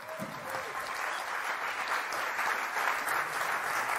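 Steady applause from an audience inside Rebibbia prison, a dense wash of clapping that holds at an even level throughout without any speech over it.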